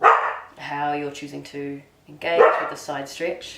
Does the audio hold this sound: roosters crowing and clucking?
no